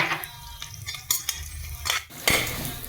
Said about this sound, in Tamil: ஆனியன் கொஞ்சம் ஃப்ரை ஆகட்டும்.